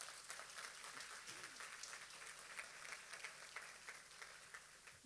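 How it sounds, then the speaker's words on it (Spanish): Steady applause from a church congregation, many hands clapping continuously at a distance, even in level throughout. "Dale un fuerte aplauso a Jesús."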